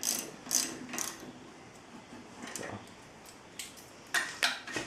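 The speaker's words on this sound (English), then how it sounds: "get your torque wrench out and tighten them up" A torque wrench ratchets while tightening the lug nuts on a Jeep Wrangler TJ wheel. Short bursts of crisp metallic clicking come up close, separated by brief pauses, with no talk.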